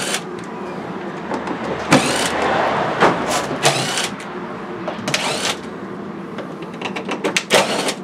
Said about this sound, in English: So we'll just take the screws out of this.